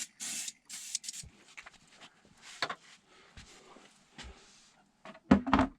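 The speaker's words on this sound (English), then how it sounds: "get our mold sprayed here with some mold release" Aerosol mold release being sprayed onto a resin casting mold, several short hissing bursts separated by pauses and quieter handling clatter, with a louder clunk near the end.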